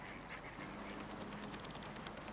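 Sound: geese on the water in Teletubbies PC video game

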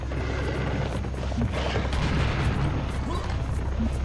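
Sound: gunfire from the video game Serious Sam 2nd Encounter

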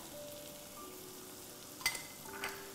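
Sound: vegetables frying and being stirred for fried rice

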